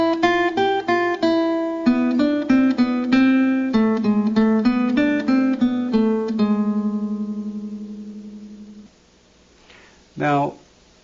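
Full introduction of Malaguena on a classical guitar, quick plucked notes over a steady bass that slow and end on a long ringing note, followed by a brief spoken word near the end.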